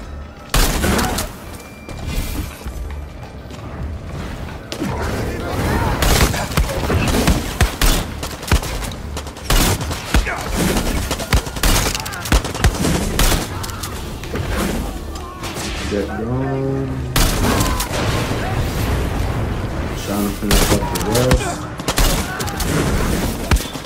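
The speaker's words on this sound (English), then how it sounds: "Snipers up here always end up bothering me." Sniper fire and other gunfire in the video game Far Cry 6 (Pagan Min DLC): repeated sharp shots and bursts throughout a dense, loud battle mix with game sounds layered over it.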